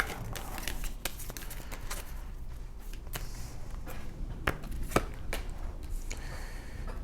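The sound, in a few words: shuffling and pulling an oracle card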